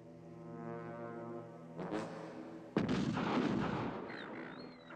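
A gunshot from the 1979 film Mad Max, a sharp loud bang with a booming rumbling tail, coming after a brief lower thud and sustained droning background.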